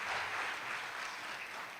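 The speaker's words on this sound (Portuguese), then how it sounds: "Por favor, dê um aplauso aí, pastor Tiago." An audience at a leadership conference applauds a pastor, a steady wash of many hands clapping together, moderately loud and somewhat distant, running unbroken to the end.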